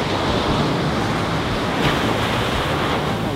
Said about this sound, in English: Get ready for a wave and I'll scoop up some water.